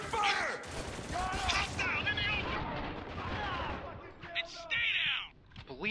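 Gunfire in a chaotic firefight in Spec Ops: The Line, rapid bursts and single cracks of rifle fire with whizzing ricochets and impacts, loud and close, overlapping shouted dialogue.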